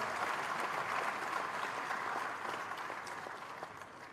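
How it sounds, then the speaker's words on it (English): Convocation audience applauds the Vice Chancellor, steady, even clapping from a large crowd that holds for several seconds and slowly fades at the end. "Please, a round of applause for our Vice Chancellor."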